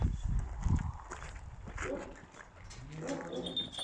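A Kangal cross dog whimpers and yips close by, with footsteps shuffling and light movement noise around it.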